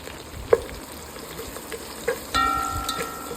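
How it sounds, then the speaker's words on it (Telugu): Onions, green chillies, coriander and mint fry in ghee for chicken biryani, a soft steady sizzle with a couple of light clinks of a utensil against the pan and a brief ringing tone near the end. "నెయ్యిలో ఇవన్నీ ఫ్రై చేస్తుంటే మంచి స్మెల్ వస్తుందండి."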